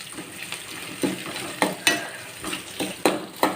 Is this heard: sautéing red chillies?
yes